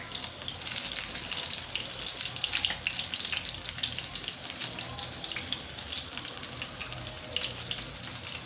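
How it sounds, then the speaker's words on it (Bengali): Bombay duck (loitta) fish pieces frying in hot oil, giving a steady, dense crackling sizzle that holds close and even throughout with no talking. "আমার মাছ ভাজা ফ্রাই হয়ে আসছে।"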